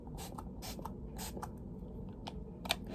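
Makeup setting spray is misted onto a face in several short, close hissing bursts spaced through a quiet room, with no talking.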